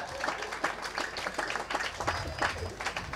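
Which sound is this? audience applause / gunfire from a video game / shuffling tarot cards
audience applause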